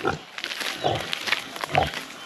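A pregnant pig on a farm gives several short, low grunts in an uneven rhythm, close by, with light background noise between them.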